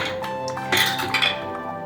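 Metal utensils clink against each other and a strainer while plum sharbat is strained, a few short bright clinks over a steady background.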